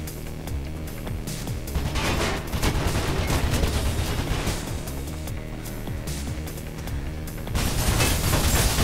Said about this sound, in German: Oh shit, Faith, die haben ein Maschinengewehr.